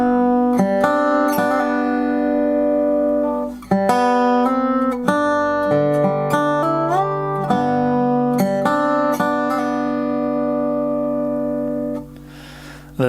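Dobro resonator guitar plays the second measure of "Wildwood Flower" with a hammer-on and pull-off, clear sustained slide-like notes ringing one after another with a steady picked rhythm, solo and close.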